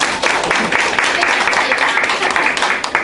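Steady clapping from a crowd fills the space, a dense, continuous patter of many hands applauding together.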